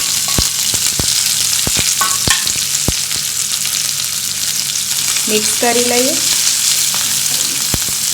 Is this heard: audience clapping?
no